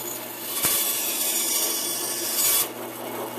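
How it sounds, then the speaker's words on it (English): A bandsaw runs steadily in a workshop, a continuous close rasping whine as it cuts wood for a turned mushroom, with a brief louder surge near the end before settling back to the running hum. "Turn on the bandsaw."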